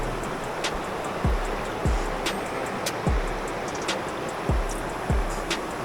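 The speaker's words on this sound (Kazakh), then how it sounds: "Өте әдемі болып сарқырап ағып жатқан жайы бар бұл бұлақтың да." Mountain spring stream running down from the hills, a steady broadband rush of flowing water with a few low thumps and clicks mixed in.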